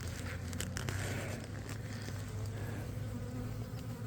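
Honeybees buzz loudly and continuously close by while a beehive is opened for inspection, a dense droning swarm hum with a few light crackling frame and comb handling sounds, no talking.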